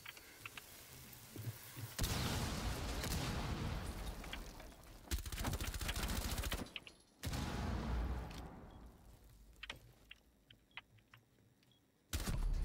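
Heavy bursts of automatic gunfire in Rainbow Six Siege on the plane map, long rapid volleys broken by short pauses, loud and close with scattered single shots between.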